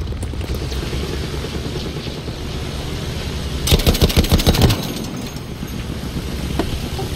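An aircraft passes over the battlefield in the video game Battlefield 1, a brief rattling burst of engine or gunfire for about a second over a steady background rumble of combat noise.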